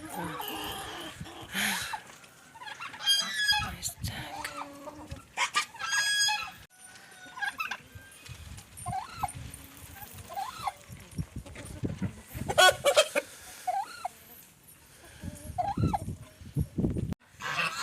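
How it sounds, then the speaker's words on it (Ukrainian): A turkey and a rooster squabble, squawking and clucking in a noisy scuffle, with the rooster crowing amid sharp agitated calls, close by and loud. "пташині бої. Індичка з півнем. Заїдаються вони."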